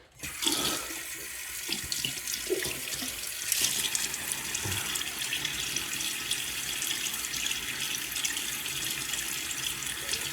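A bathroom tap runs steadily as a face is wetted before shaving, a close, continuous hiss of flowing water with a few splashes, no voices.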